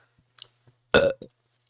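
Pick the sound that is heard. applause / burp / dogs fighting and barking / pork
burp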